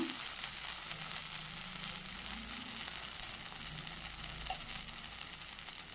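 A thick sweet potato bun dosa cooks on a hot pan, frying with a soft, continuous sizzle and faint crackle, close and alone without voices.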